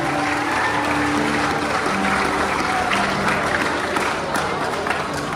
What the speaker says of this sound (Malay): Ayo berikan satu tepukan kepada Ayahanda Datuk Haji Mazlan bin Ishak.